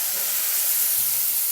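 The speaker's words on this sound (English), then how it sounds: "hoping the microphone picks that up over the sound of sizzling" Onions and apple sizzle in a hot pan for a schnitzel dish, a steady, close, broadband hiss of frying with no pauses and no talk.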